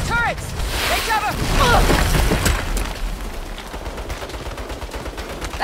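Turret gunfire from the Saints Row video game rattles in rapid bursts beneath shouting voices and harmonic game effects, steady and loud throughout, fading into a denser crackling barrage toward the end.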